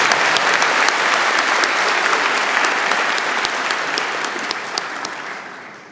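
A large audience at a university convocation ceremony applauds the band, a loud, full sheet of clapping that slowly thins and fades toward the end.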